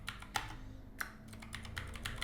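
Someone types a database command on a computer keyboard, with a run of quick, irregular key clicks and a few sharper taps, close and fairly quiet, with no talking.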